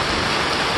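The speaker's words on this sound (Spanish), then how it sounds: "el río, pues creo que va a crecer porque está lloviendo recio, miren" Dense, steady hiss of heavy hurricane rain in El Salvador, loud and unbroken, with no voices over it.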